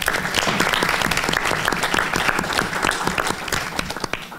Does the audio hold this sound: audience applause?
yes